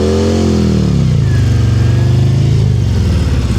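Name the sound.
motorcycle engine revving during slow speed riding practice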